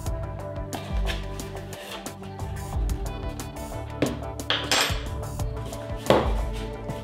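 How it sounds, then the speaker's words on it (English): Flour, baking soda and baking powder for Irish soda bread being sifted in a kitchen: soft, continuous tapping and rattling of a metal sifter with a few sharper knocks, close and fairly quiet, with no talk. "let's finish sifting all this together"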